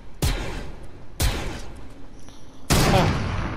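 Three loud gunshots ring out in Fortnite, spaced about a second apart, each a sharp near crack with a lingering echo over steady game background.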